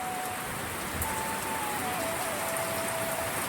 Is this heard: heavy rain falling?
yes